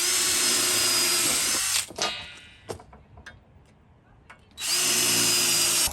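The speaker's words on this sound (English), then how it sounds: "we've just drilled all the holes in these" A power drill boring holes in metal roof strips for a Land Rover Defender pop-top roof on a driveway, with a loud whining burst, a pause filled with clinks and handling, then the drill starting again.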